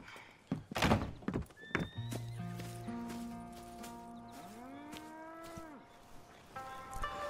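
Cattle in a farm barn in Red Dead Redemption 2, with several long, deep moos that rise and bend in pitch, overlapping one another, plus a few dull thunks and a nearby horse whinnying.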